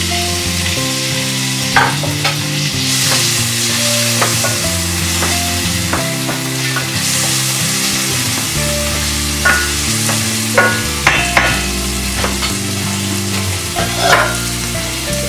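Cut tomatoes go into a hot pan for a Maharashtrian egg curry, giving a loud continuous sizzle and frying hiss, with low background music and regular scraping stirs.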